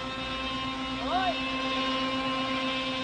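A radio-controlled helicopter flies outdoors in windy conditions during a tornado field test, its rotor giving a steady, even motor whine with a brief pitch sweep partway through.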